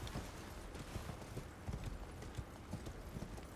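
A horse ridden in Elden Ring Shadow of the Erdtree, near Bonny Village, gives steady rhythmic clip-clopping hoofbeats throughout, fairly quiet over a constant ambient game background.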